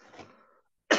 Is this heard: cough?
yes